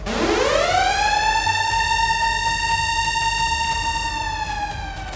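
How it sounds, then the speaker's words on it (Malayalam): A powerful slaughterhouse alarm siren winds up and then blares continuously at a steady high pitch, loud and close, with no voices. "അറവുശാലയിലെ അപായ സൈറൻ വൻ ശബ്ദത്തിൽ മുഴങ്ങി"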